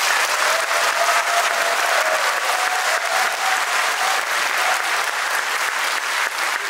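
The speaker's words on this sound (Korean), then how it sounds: "먼저 뜨거운 환영의 박수 한번 부탁드리겠습니다" A crowd at a Geumsan county town hall gathering gives sustained, loud welcoming applause, dense even clapping that continues unbroken for several seconds.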